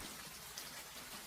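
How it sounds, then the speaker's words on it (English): Steady spring rain falling, a dense even patter with small raindrops ticking on a surface throughout, soft and continuous with no voices. "listening to rain"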